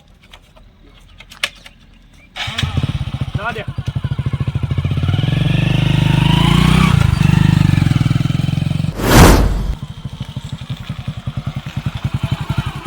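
A motorcycle engine starts and idles close by in a village setting, settling into a steady throbbing run that swells briefly before dropping back to a rhythmic idle, with a few words spoken over it.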